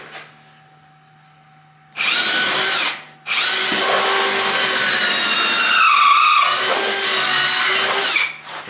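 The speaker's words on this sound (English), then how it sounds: "I just drill right through the neck pocket through these pockets to here" A drill with a long bit whines loudly as it bores through the neck pocket of a wooden Telecaster-style guitar body, starting after a quiet moment, pausing briefly, then grinding on steadily for several seconds before stopping.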